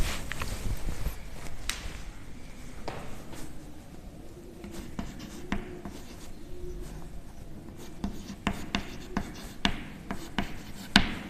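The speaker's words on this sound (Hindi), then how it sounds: "सबसे पहले मैं आपको इक्वेशन लिखता हूं" Chalk or marker writing out a molarity equation on a board in a classroom, a series of close taps and scratches with faint background noise, no clear talk.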